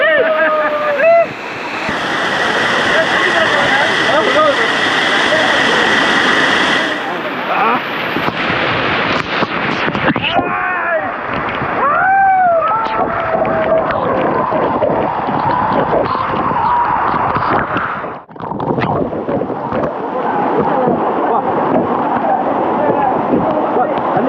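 Mini waterfall near Periyakulam, Theni, a loud continuous roar of rushing, splashing water heard up close throughout, with people talking and calling out over it.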